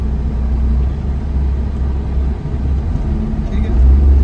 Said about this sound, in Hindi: अभी भी देखें आप RPM खुद ब खुद ही फ्लक्चुएट कर रहे हैं